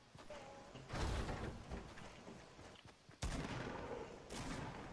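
Gunfire crackles in a Fortnite squad match, several faint bursts and sharp reports spread across a few seconds over a dense background of game noise.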